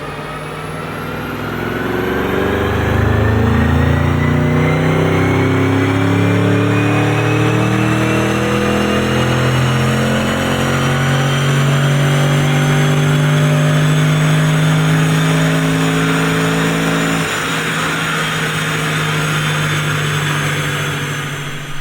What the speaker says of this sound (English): Let's get this thing on the dyno, do our baseline